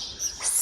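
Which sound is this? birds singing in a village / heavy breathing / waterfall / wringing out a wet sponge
birds singing in a village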